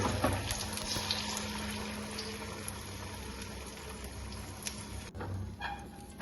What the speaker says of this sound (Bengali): তেলটি গরম হয়ে গেলেই ফ্যাটানো ডিমটা গরম তেলের মধ্যে ট্রান্সফার করে নেবো অমলেটের জন্য।